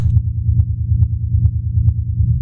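A deep, pulsing synth bass for rave techno throbs in a fast steady rhythm with short soft ticks on each beat, thick and rumbling, fed through short, fully wet reverb.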